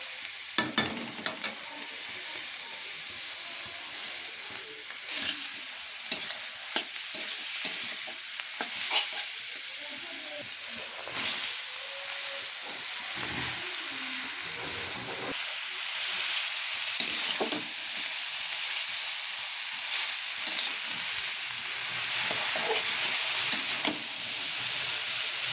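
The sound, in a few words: chow mein frying and being stirred in a pan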